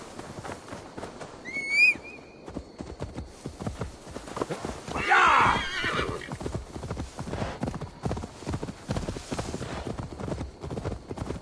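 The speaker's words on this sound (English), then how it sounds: "Now to deliver Magni his horse." Rhythmic clip-clop of hooves moving steadily, with a brief high whinny early on and some muffled talk partway through, from the video game Assassin's Creed Valhalla.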